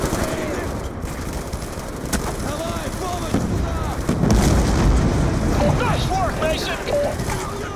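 Mortar and gunfire crack and boom through a Black Ops 2 campaign battle, with dense overlapping explosions and bursts under a player's talking.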